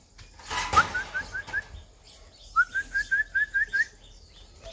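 Hand-fed baby birds chirp in two quick bursts of rapid, rising peeps, close and clear against a quiet background.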